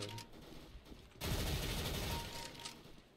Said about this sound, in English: The gunshots and explosions sound really crisp and clear.